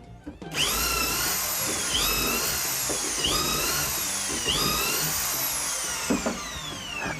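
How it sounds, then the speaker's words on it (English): Holes are drilled in timber rails, wide bottom and narrow top, clamped in an Ozzie multi-jig; a power drill whines loudly and close, its pitch dipping and recovering several times over the cut before spinning down at the end. "and drill the holes"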